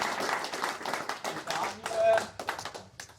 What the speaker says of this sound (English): And so that should be a round of applause.